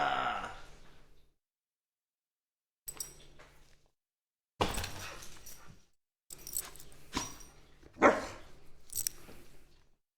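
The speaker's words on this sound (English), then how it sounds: "Ah, puppy! I'm under puppy attack." A playful puppy barks in short, sharp bursts at close range, separated by quiet gaps, with some jangling and scuffling between the barks.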